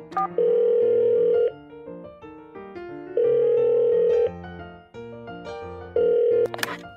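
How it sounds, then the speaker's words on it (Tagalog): A telephone dial tone sounds in three long steady bursts separated by gaps while a call is being placed, with musical tones in the background and no talking. "Tawagan natin si Marites."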